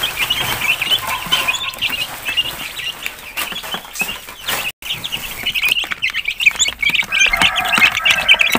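Many free-range Basilan Paraokan native chickens cluck and squawk continuously at feeding time, a loud, busy flock close by with no talking.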